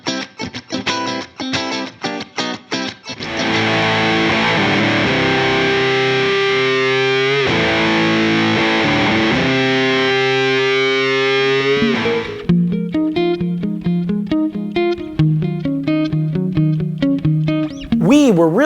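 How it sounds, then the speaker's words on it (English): An electric guitar is played through an Olinthus Pillbug compressor pedal: loud, clean plucked notes, then a long sustained chord that rings and swells, then a run of quick compressed notes with even, squashed dynamics. "something that could go from subtle dynamics changes all the way to squashy compression with huge sustain"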